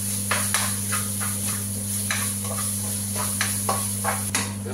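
Beef bacon fries in a little oil in a hot frying pan for spaghetti carbonara, giving a steady, close sizzle under a constant hum, with light scattered taps and scrapes from stirring.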